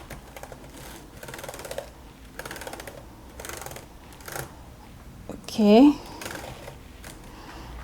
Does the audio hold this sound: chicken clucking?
no